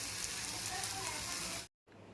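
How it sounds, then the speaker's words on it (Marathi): Alu vadi, rolls of colocasia leaves, frying in hot oil, with a steady close sizzle that cuts out abruptly near the end. "चला आता वड्या कापूया आणि तळून घेऊया"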